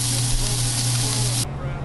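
Steak sizzles in olive oil in a hot pan: a loud, steady, close hiss that holds evenly for over a second, then cuts to a quieter fizz.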